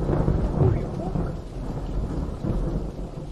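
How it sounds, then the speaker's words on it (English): Loud thunder from an Unreal Engine weather system at night, a heavy rumbling roll mixed with a hiss of rain that stays close and continuous with no talking. "This thunder was pretty loud."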